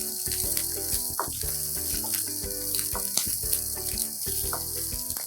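Green chillies sautéing lightly in a pan, giving a steady, hissing sizzle that runs throughout beneath background music.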